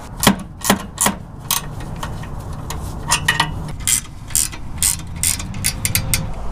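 Ratcheting wrench tightening nuts on rear differential skid plate brackets under a 5th gen Toyota 4Runner, a series of irregular clicking and metallic ticks close by, with quiet pauses between short bursts.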